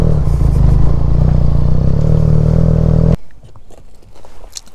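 Motorcycle engine idling loud and close in cold, foggy mountain air, a dense rumbling chug that cuts off abruptly after about three seconds, leaving quieter outdoor sounds.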